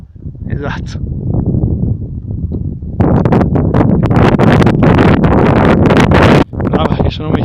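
Wind gusts buffet the microphone on an exposed mountain hiking trail near Monte Cancervo in the Bergamo area, a steady low roar that turns louder and harsher midway, with faint voices underneath.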